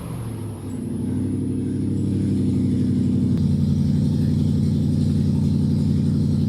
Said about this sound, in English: The sound of this exhaust is so tiring.